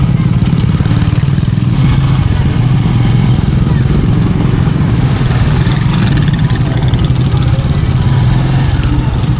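Motorcycle engine running in a crowded weekend street in the Philippines, a steady low rumble close by throughout, mixed with crowd noise and voices.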